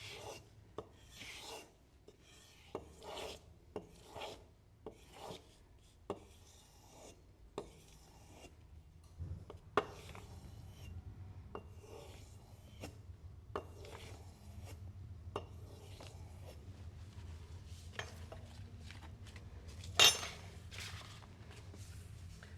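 Leathercraft tool blades rasped back and forth across abrasive stones of several grits, a steady rubbing scrape with repeated short strokes, close and fairly quiet, with no talking.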